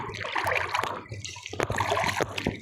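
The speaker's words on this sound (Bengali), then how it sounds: "এদিকে এদিকে এদিকে বড় ঢেউ আসছে" Sea waves surging and splashing close by along a shoreline, a continuous rushing wash with louder breaking surges, with faint voices in the background.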